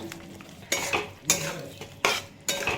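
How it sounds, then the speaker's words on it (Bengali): Fried pointed gourd curry is stirred in a pan with a spatula, giving several scraping strokes over a soft, steady sizzle, close and fairly quiet. "দিয়ে একটু আরেকটু নাড়াচাড়া করে নেব"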